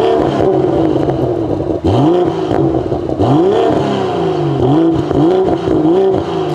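A BMW M240i with a Milltek exhaust system revs loudly and close by. The engine tone rises and falls through several revs, with no talk over it.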